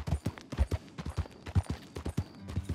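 Horse hooves pound in a steady galloping rhythm in Red Dead Redemption 2, a quiet, rapid series of soft thuds with no talk over them.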